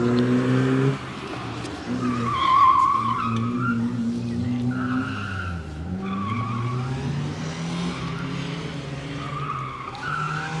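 Car tires squeal and skid through a corner on an autocross course taken a little too hot, long wavering screeches over a revving engine, fairly near and alone with no talk.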